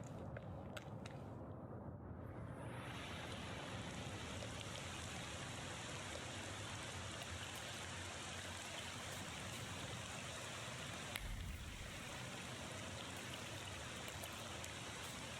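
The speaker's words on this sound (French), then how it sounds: "En même temps il pleut." Rain falls in The Thaumaturge video game as a dense, even hiss that holds steady for the whole stretch, with no voices over it.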